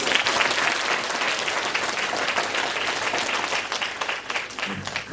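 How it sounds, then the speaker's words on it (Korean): An audience at a lecture gives a dense, steady round of applause that fills the room, with no talking over it. "박수 한번 주세요"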